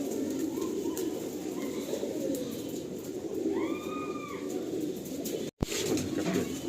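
Pigeons in the Ranihati loft give a few soft, throaty coos over a steady background hum, with a brief dropout near the end.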